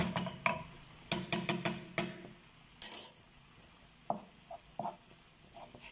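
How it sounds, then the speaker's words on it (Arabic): Chicken breast with peppers, cumin, hot sauce, cilantro and parsley being stirred in a pan, with a series of sharp utensil clinks and scrapes against the pan over a faint sizzle. "وغادي نخلطو مزيان"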